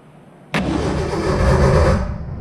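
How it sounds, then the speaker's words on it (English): A Jeep J10 engine cranks over after a starter solenoid swap, bursting in abruptly after a quiet moment into a loud, rough, churning turnover that runs steadily, then eases slightly near the end. "Let's see if we get some turning over. All right, sounds terrible, but turns over."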